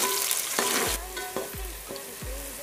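Two to three large onions fry toward golden for vegetable pulao, a steady sizzling hiss with a series of rhythmic scraping stirs and dull knocks of the spatula against the pan, with no talking.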